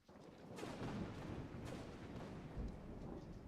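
Rolling thunder from a storm in the video game Menace from the Deep, a sustained low rumble that swells and churns steadily throughout, loud and close with no talking.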